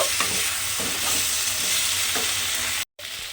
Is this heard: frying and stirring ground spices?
yes